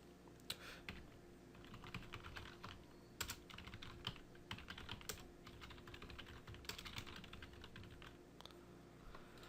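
Typing on a computer keyboard while writing in Scrivener: quiet, rapid clusters of key clicks in uneven bursts with short pauses, close and alone.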